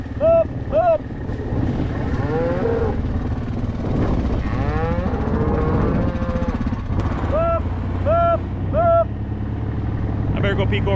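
Cattle mooing on a farm during a roundup, several drawn-out calls at moderate distance with a vehicle engine running steadily underneath; a person talks briefly between the calls.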